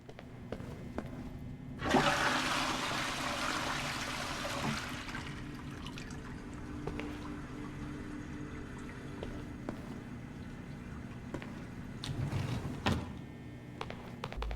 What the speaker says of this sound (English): there are 2 toilets here, so I'm going to flush those